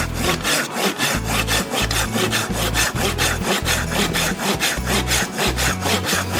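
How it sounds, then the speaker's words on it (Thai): A Silky GomBoy 240 folding Japanese hand saw cuts through fresh tamarind wood in steady back-and-forth strokes, each rasping pass loud and close, with no talking. "เดี๋ยวเราลองมาเลื่อย ไม้สดกันหน่อยนึง อันนี้เป็นไม้มะขามสดๆนะครับ"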